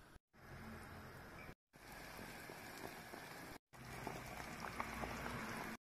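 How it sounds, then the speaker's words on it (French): Vegetable sauce bubbling steadily in a covered saucepan, a dense crackling simmer heard close up, broken by two brief cuts to silence. "Je laisse tout bouillir pendant 15 bonnes minutes."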